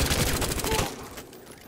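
Gunfire aimed at the player in the video game Battlefield Hardline, a dense rapid volley of shots that fades toward the end, loud and close.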